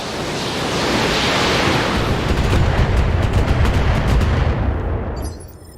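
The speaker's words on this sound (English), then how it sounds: "Let's just fire our missiles at this reinforced sniper." Missiles fired at a reinforced sniper in the Roguetech video game make a loud, sustained rushing roar of launches and impacts for about five seconds, then it cuts off abruptly.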